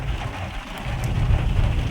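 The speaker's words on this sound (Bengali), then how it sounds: "জোর বৃষ্টি নেমে গেছে এবার" Heavy rain pours steadily outdoors near a stretch of forest, a dense continuous roar of large drops with low rumbling underneath, loud and close throughout with no voices.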